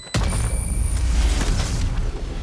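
A bomb explodes in the Valorant video game with a sudden heavy boom, followed by a long, deep rumbling roar that fills the rest of the moment with no talk.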